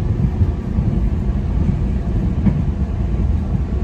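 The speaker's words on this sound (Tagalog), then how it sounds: "Dito na kami sa train, sa loob ng train" A steady low rumble and rattle from inside a moving train in Taiwan, continuous and fairly loud, with no talking.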